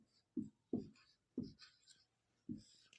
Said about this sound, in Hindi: जैसे मैं एग्जाम्पल लिखता हूँ यहाँ पे